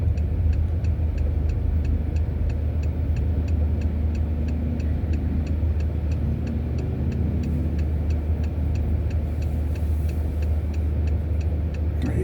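A double road train truck rolls along the Mid-Western Highway near Cowra in Australia, a steady loud low engine and tyre roar that holds throughout with no clear build or fade.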